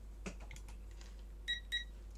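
Two short, faint electronic beeps from a multimeter set to diode mode, alongside soft clicks and handling taps on an electronics workbench.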